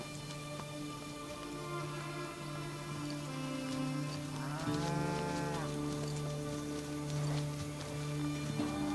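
Cattle low repeatedly while being herded through the Pantanal wetland at a ranch, drawn-out moos rising over a constant hiss of rain or wet ambience.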